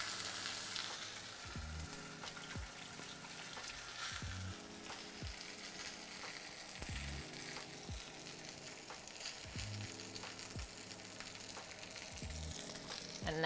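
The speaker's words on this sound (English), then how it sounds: "So use the side of your pan as well to like kind of help you sear." Prime rib sears in hot fat in a pan, a steady, quiet sizzle and crackle running continuously, with faint background music and occasional stirring or shifting sounds.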